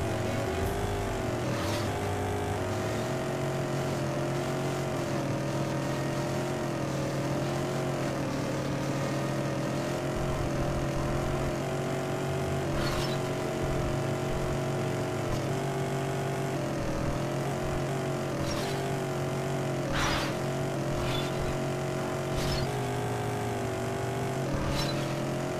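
Recon vehicle bouncing around a custom racing track in Battalion Wars, its steady engine drone holding loud and close throughout with small thumps and shifts in pitch as it drives over uneven ground.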